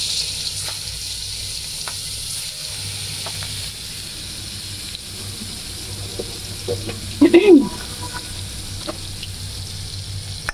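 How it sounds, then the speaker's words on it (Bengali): Fish fries in a smoking wok with a continuous hissing sizzle. A short, louder spitting burst rises near the end. "প্রথমে আমি যেটা করবো, মাছটা ভেজে নেব।"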